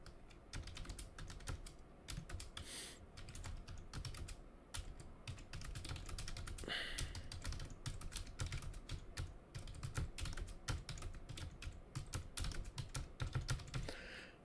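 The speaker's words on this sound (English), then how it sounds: "Can you hear the typing now?" Continuous typing on a computer keyboard, quick clicking keystrokes in steady runs over a faint background hum, nearby but quiet, with no voices.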